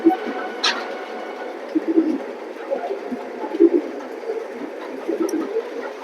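Pigeons in a loft of racing birds give soft, low cooing calls again and again, fairly close, with a brief sharper bird call near the start and faint handling noise throughout.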